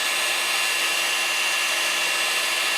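Blowtorch heating a hose during compressor bank plumbing work, a steady, loud roaring hiss that runs without a break for the whole stretch.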